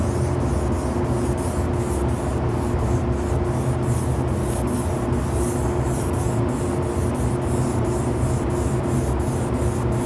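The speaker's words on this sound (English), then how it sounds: "I spray 3 layers of the pewter." Wicked Pewter paint thinned with 4011 reducer is sprayed in thin layers onto an RC car body, making a steady, close hiss with a rapid, regular pulsing tick running through it, without any talk.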